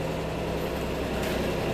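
A Kubota RTV900 utility vehicle engine with a repaired head gasket idles outside, giving a steady, continuous low drone at even loudness with no talking over it.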